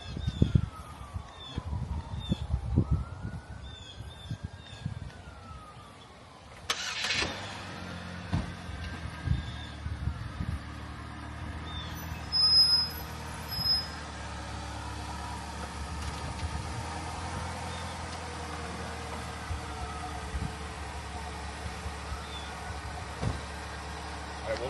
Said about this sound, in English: I will leave the car running.